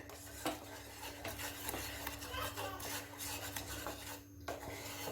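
A spoon scrapes and stirs through thickening jaggery syrup in a pan for peanut candy, with soft repeated scraping and occasional clinks, quiet and close.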